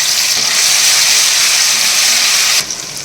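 Ginger garlic paste with whole spices hits hot oil in a pan, giving a loud, continuous close-up sizzle and hiss that drops off sharply near the end.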